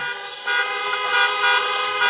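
Car horns honk at a drive-in campaign rally in Des Moines, Iowa, several overlapping tones sounding together in rising and falling waves, moderately close and without speech.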